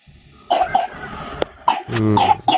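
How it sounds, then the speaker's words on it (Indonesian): Two bursts of coughing, close and loud, the second a harsher double cough with a throaty tail. "Malah batuk dia kan."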